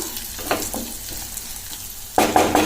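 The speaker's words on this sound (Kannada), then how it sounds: "ಶೇಂಗಾ ಬೇಳೆ ಹಾಕೊಂಡು ಚೆನ್ನಾಗಿ ಮಿಕ್ಸ್ ಮಾಡ್ಕೋಬೇಕು. ಬೇಳೆನ ಎಣ್ಣೆಲಿ ಹಾಕೋದ್ರಿಂದ ಬೇಗ ಬೇಯುತ್ತೆ." Peanuts frying in oil while being stirred, a steady sizzle with scattered scraping taps and a louder burst of stirring near the end.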